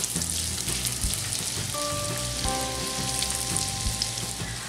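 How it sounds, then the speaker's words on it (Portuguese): Garlic frying in hot oil in a home kitchen, a steady crackling sizzle like light rain that continues without a break, with a faint tonal hum partway through. "vou jogar meu alho pra fritar"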